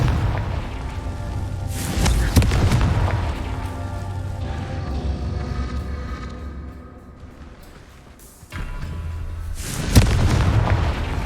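Confringo explosion spell in the video game Hogwarts Legacy: two sharp, loud blasts a few seconds apart, each a sudden burst that rolls into a rumbling tail over a continuous game background, with no talking.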